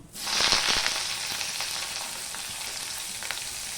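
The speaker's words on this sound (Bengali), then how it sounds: "ফোড়নটা হয়ে গেলে আমি এখানে পেঁয়াজ দিয়ে দিচ্ছি" Onion drops into hot oil spiced with black cumin seeds and bursts into a loud sizzle, then settles into a steady frying hiss with small crackles and a stir or two, heard up close.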